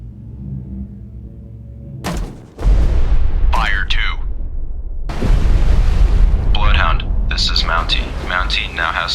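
Depth charge explosions in Destroyer: The U-Boat Hunter, deep booming blasts and a long low rumble, while voices give orders over the explosions.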